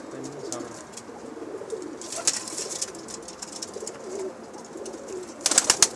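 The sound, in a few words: pigeons cooing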